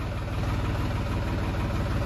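A Ford 3600 tractor engine runs steadily at idle, a continuous low, throbbing diesel rumble with a faint clatter, close by and unbroken.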